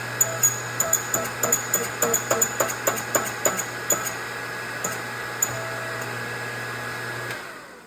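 A socket pressing a bearing inner race onto the shaft of an Eaton M-series supercharger during a rebuild: a run of roughly fifteen sharp, close metallic taps and clinks in an irregular rhythm, over a steady low hum.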